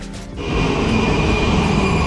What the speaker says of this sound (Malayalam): നമ്മൾ വീണ്ടും ഇത് ആ മെട്രോ സ്റ്റേഷനിൽ എത്തിയിരിക്കുകയാണ്